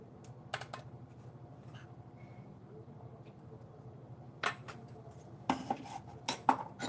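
A metal spoon stirs a horse gram flour mixture in a pot with soft scraping, then several sharp clinks and taps against the vessel near the end, close and clear with no speech.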